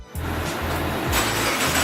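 Car engine with a loosened, modified exhaust giving a Subaru-style rumble, a short burst of loud, throaty low-pitched idle burble heard close up.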